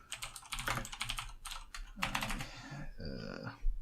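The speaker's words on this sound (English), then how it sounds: "Excuse the typing." Rapid clacking keystrokes on a computer keyboard in bursts with short pauses, fairly close and moderately loud, with no talking over it.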